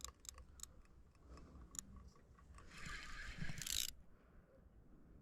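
A fishing reel's tightened drag ticks in quick irregular clicks while fighting a sturgeon, faint against water and outdoor background noise, swelling into a brief louder hiss near the end.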